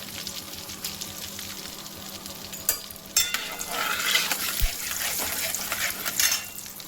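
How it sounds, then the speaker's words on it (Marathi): Mustard seeds and cumin hit hot oil for an egg ghotala dish, giving a close, continuous sizzle with sharp crackles and pops that builds toward the end. "आता तेल पण गरम झालेलं आहे त्याच्यामध्ये टाकू मोहरी जिरा"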